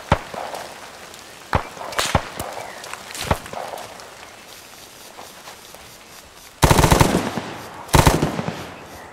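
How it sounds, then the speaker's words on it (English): Scattered gunshots in the military video game Arma 3 (SOG Prairie Fire), single sharp cracks spaced irregularly, mostly moderate and distant, with two louder, closer bursts near the end. "Sounds like another shot from the northeast incoming."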